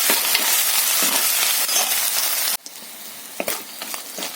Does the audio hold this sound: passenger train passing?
no